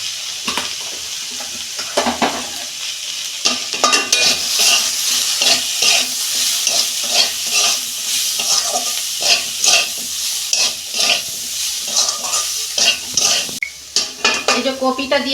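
Dried chili, cumin powder and coriander powder fry in a pan for a vegetable chorchori, with steady sizzling under repeated close stirring and scraping of a spoon against the metal pan, clinking throughout and no talking.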